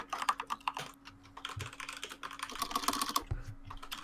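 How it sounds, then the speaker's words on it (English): Rapid computer keyboard typing during an online Counter-Strike quiz stream, a dense irregular clatter of keys close to the microphone with no talking. "can we tone down the keyboard noises a little bit?"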